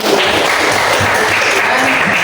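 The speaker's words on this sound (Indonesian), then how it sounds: "Jadi tepuk tangan buat bersama." Group clapping together at the close of a teachers' class session, a steady dense patter of many hands filling the whole stretch at fairly loud level, with no talk over it.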